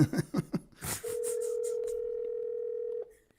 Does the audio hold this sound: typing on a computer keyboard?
no